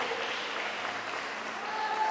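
Church congregation applauding during a sermon, a continuous wash of clapping heard at a moderate distance, steady and even without pauses.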